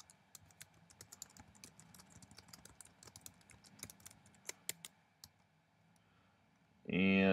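Rapid clicking of a computer keyboard as someone types in an app ID, a quick irregular patter of keystrokes that thins out near the end before a loud burst of other sound cuts in.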